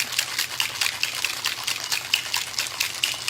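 A cocktail shaker holding coconut cream, coconut water and agave for a coconut margarita is shaken hard and fast, giving a steady run of close, rhythmic liquid sloshes and splashes with no voices.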